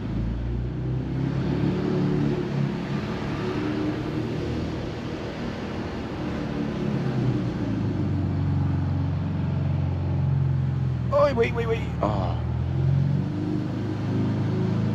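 A lowered Infiniti Q50 Red Sport engine rumbles low and steady throughout at night, with a brief rev and exhaust burble midway; a person makes a few short exclamations over it.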